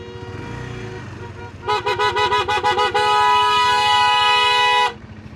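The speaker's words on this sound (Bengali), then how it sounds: "কেন হর্ন মারছে?" Vehicle horns on a mountain road in North Sikkim: a rapid burst of about eight short honks, then one long sustained blast, loud and near over engine rumble.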